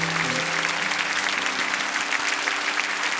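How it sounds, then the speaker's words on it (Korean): Sustained applause from a Korean church congregation during a Sunday service, a steady dense clatter of many hands with no break, at full level throughout. "우리 다시 한 번 더 큰 박수로 격려해 드리기 원합니다"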